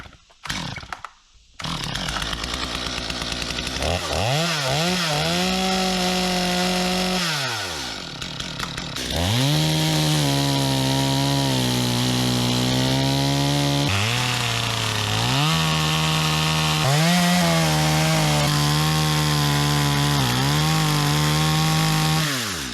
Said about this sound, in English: Just happen to have my chainsaw, so no time like the present.